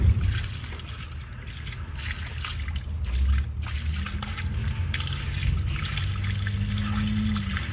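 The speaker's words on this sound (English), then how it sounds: "Just putting some water down the line here." Water poured down a household drain line in a Newburgh home, a steady trickling and dribbling flow with a low rumble underneath, continuous and close for the whole stretch, with no talking.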